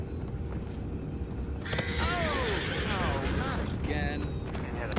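A horse in the video game Red Dead Redemption 2 lets out a whinny, a wavering neigh rising over a steady outdoor ambience of crowd murmur, with a second shorter call near the end.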